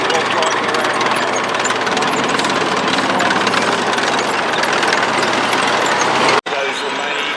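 A post-war Soviet T-55 tank drives around at a military show, its engine and tracks making a loud, continuous, rattling rumble that cuts off abruptly near the end.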